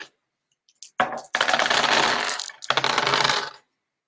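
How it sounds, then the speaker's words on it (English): Four dice rolled during a live play of the Godsforge board game, with a short rattle followed by two bursts of clattering across a hard surface, close and fairly loud. "I'm always very excited to roll my dice."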